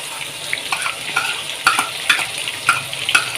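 An onion-based hair serum mixture cooks in a pan over a low flame, giving a soft steady sizzle with irregular stirring scrapes and clinks repeating through the few seconds, close and moderately loud with no talk.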